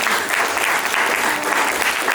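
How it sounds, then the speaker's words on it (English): Steady, dense applause from a media day crowd for the North Alabama Lakers fills the whole stretch, loud and close with no pauses. "Give them a round of applause."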